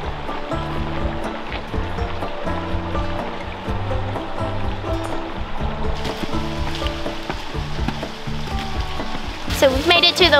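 Waterfall at Desoto Falls in Georgia, heard at the lower falls: a steady rush of falling water fills the whole clip, with voices and other sounds layered over it.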